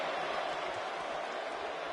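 A WWE 2K18 arena crowd at a Money in the Bank wrestling event roars and cheers in a steady, dense wash of noise that continues without a break.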